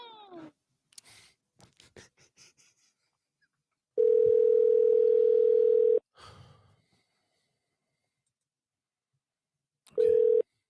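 A phone call rings out before rolling to voicemail: two long steady telephone tones, one lasting about two seconds and a shorter one near the end, loud and clear between soft breathy voice sounds and shushing.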